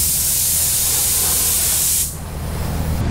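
A spray gun applies color coats to Dodge Viper ACR fenders, producing a loud, steady, close hiss that drops off abruptly partway through, leaving a quieter background rush.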